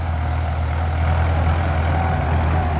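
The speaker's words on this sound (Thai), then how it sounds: "เดี๋ยวคลิปนี้ก็อยู่กับรถไถฟอร์ดคือเก่าครับ" An old Ford 6600 farm tractor engine idles steadily close by, a continuous low throbbing rumble with no voices over it.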